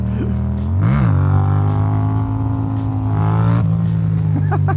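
DIY adventure motorcycle engine running close by, revving up and settling into a steady throbbing idle with a couple of throttle blips over a few seconds.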